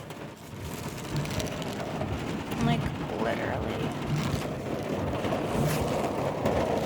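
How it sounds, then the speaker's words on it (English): Heavy rain and hail pound down during a thunderstorm as a steady, dense roar, with a person talking briefly over it. "I literally feel like it's hailing right now."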